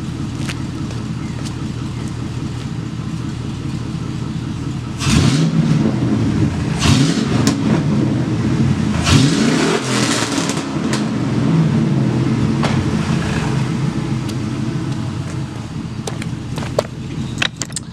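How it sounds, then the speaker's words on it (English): A car with its catalytic converter removed idles loudly nearby, then the engine is revved several times in rising, throaty bursts before settling back to a rough, droning idle. "I'm going to go ahead and give it a rev for you, so let's see what it sounds like."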